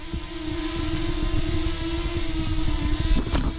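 A Parrot Anafi drone with motor covers fitted runs its motors continuously, giving a steady, close electric whine with a sustained high tone and a lower hum, loud and unbroken throughout with no talk.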